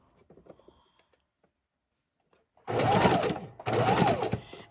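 A sewing machine runs in two steady bursts of fast whirring while stitching strips of quilt-block scrap snippets, coming in after a quiet stretch that holds a few faint rustles and handling taps.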